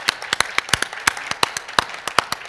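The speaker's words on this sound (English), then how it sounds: "Please give them a warm applause." An audience at a book launch session applauds with scattered, uneven claps, a modest crowd clapping at close to moderate distance.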